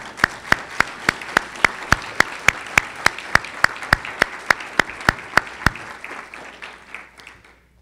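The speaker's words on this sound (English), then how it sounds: "Commander Zoe Dunning, one more round of applause." A round of applause from the audience at an awards ceremony: steady clapping with sharp, evenly spaced claps standing out close by, lasting about six seconds before tapering into quiet room tone.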